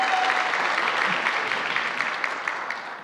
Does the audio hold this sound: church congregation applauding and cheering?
yes